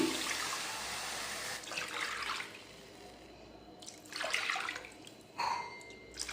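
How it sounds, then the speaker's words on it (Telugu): Water splashes and gurgles into a pot of moong dal and rice in several short pours, with quieter gaps between the bursts of running liquid. "నాలుగు కప్పులు వాటర్ పోసాను"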